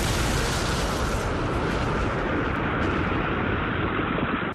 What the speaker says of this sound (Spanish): Increíble la resonancia de las explosiones.